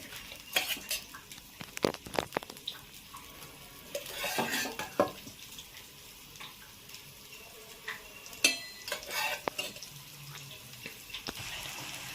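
Mung bean dosa batter cooks on a hot pan, a continuous light sizzle under repeated metallic scrapes and taps of a utensil spreading and turning it, close and moderately loud.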